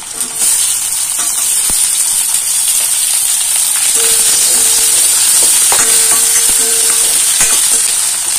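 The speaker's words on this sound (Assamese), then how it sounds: "পিয়াজখিনি এনেকৈ অলপ সময় ভাজি ল'ম" Onions frying in a hot oiled pan with ginger and garlic for cauliflower paratha filling, a loud, steady sizzle with a bright hiss throughout and a few scraping stirs.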